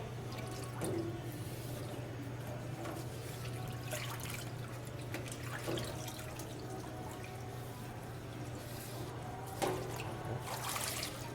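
Water from a tap runs and drips over small parts of an ice machine's water distributor as they are rinsed, a soft steady trickle with occasional splashes over a constant low hum.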